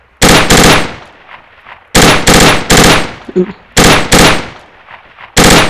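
Loud, close bursts of automatic gunfire in a military video game, several rapid rattling volleys separated by short silences, with one brief quieter sound between bursts.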